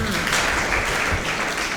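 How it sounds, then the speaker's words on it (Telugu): A crowd at the Manikarnikotsavam celebration applauds together in a thick, steady wash of clapping that holds at an even level, with faint voices mixed in. "చప్పట్లు కొట్టండి"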